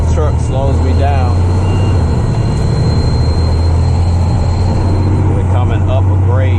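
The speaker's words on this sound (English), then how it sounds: "Weight of the truck slows me down." A heavy truck climbs a grade, its engine a loud, constant low rumble from inside the cab. Someone talks over it the whole time.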